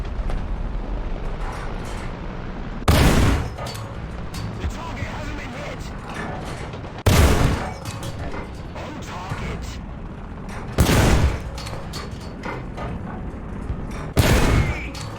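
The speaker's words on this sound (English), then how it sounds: "you can see this gun is really quick at loading. You get quite a lot of shots off." A British tank's main gun in War Thunder fires four loud, sharp blasts about four seconds apart, each cutting through a steady rumble of engine and battle noise with a voice talking underneath.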